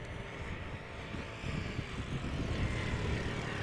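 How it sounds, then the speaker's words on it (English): An Embraer 190 airliner landing at Amsterdam Schiphol Airport, its engine roar broad and steady, heard from a distance and swelling slightly louder toward the end. "German Airways, Embraer 190, the non-chocolate livery has just landed."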